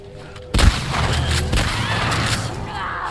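Sudden loud gunfire burst in The Last of Us Part II, a sharp blast followed by a rumbling, clattering tail of echoing shots and debris over roughly two and a half seconds.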